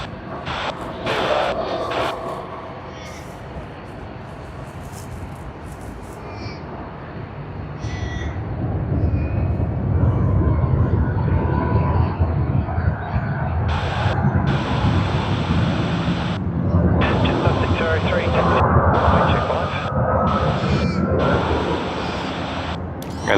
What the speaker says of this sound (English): Well, let's capture that takeoff roll